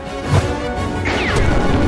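A cartoon machine falls and smashes in an animated food-fight scene, giving a loud crash with clattering debris that rings on for under two seconds, with no talk over it.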